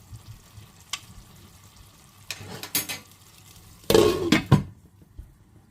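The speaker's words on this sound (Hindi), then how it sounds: "इसको लगा के और मैं ढक देती हूँ।" A lid is set over a cooking pot of kabab sitting on hot charcoal, giving a few scattered clinks and a louder clatter of metal near the end, over a faint background hiss.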